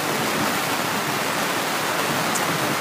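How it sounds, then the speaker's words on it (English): Heavy rain pours down steadily on a holiday outing, a loud, unbroken wash of hiss with no pauses and no voices. "you probably can't hear me because of the rain, but it's starting to pour down over here."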